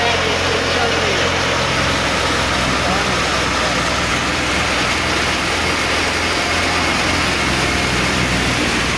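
A tractor-powered thresher runs continuously and loudly at close range, a dense unbroken mechanical roar with a low engine drone, while people's voices are heard beneath it.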